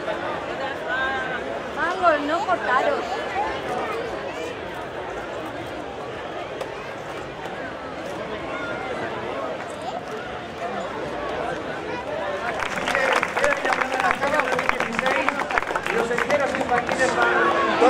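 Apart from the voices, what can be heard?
crowd applauding at fairground opening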